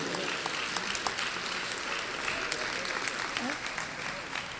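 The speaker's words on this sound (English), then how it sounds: "Another round of applause for the awardees from Social Sciences and Social Work." An audience at an honors recognition ceremony applauds awardees from Social Sciences and Social Work, dense steady clapping from a room full of people, fairly distant and even.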